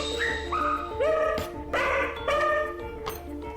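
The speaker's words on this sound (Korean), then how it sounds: "밥 먹을 때가 되면 항상 제 주변을 어슬렁거리다가 저를 보면서 짖어요" A dog barks insistently for food, giving a quick run of sharp barks and high yips mixed with whining tones, close and fairly loud.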